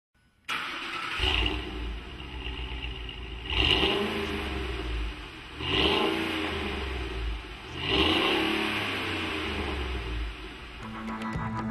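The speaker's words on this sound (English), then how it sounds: "We're going to take a couple sound clips of it stock right now" Ford F150 pickup with stock exhaust revs repeatedly, four throaty rising and falling engine surges with idle between them, recorded close and loud.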